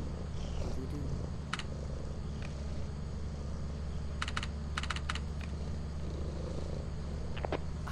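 A cat purrs loudly in the Lethal Company game, a continuous low rumbling drone throughout, overlaid by bursts of close keyboard typing and clicks.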